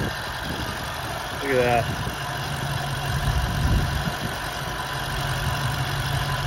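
A supercharged 2014 Ford Shelby GT500 engine idles with the hood open, a steady low rumble running through the clip beneath a brief spoken exclamation.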